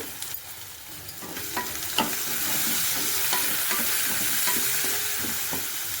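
Onion, green chili and turmeric fry steadily in a pan, a continuous close sizzle with a few sharp scrape-and-stir clicks scattered through, no talking.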